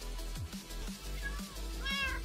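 Cartoonish cat meows from a video game, several short mews over a constant low background drone and game music, close and moderately loud.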